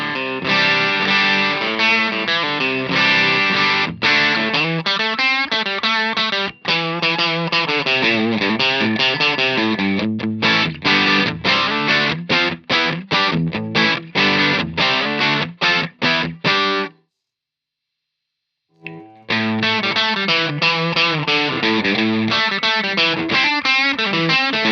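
A Lightspeed overdrive pedal on an electric guitar gives a loud, continuous driven tone of chords and riffs, with one brief pause before the playing resumes.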